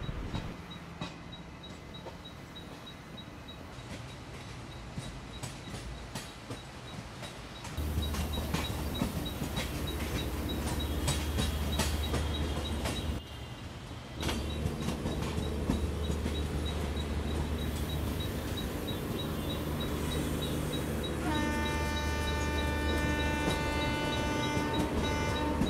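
The 12217 Kerala Sampark Kranti Express pulls out of a station amid heavy rail traffic, with a steady rumble and rattle of rail cars, rising clatter, and a rising tonal whine near the end.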